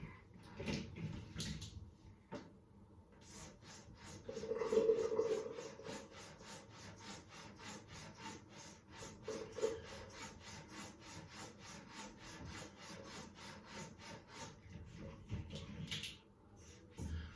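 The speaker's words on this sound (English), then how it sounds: "Just going to strop this razor." A Filarmonica 14 shorty straight razor with a concaved bevel is stropped on a plain leather strap. Soft, rhythmic rubbing strokes come in a steady back-and-forth series, quiet and close, with no talking.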